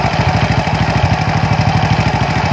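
A Honda Astrea Grand motorcycle engine, bored up with a Vario 125 piston, runs at a loud, close idle with a fast, even pulsing chug and no talk.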